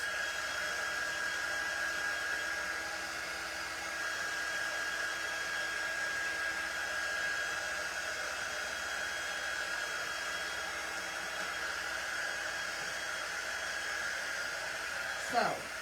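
A hair dryer blows a steady, continuous whooshing hum across painted wooden cutting board pieces, running unbroken and fairly loud for the whole stretch with a brief shift near the end.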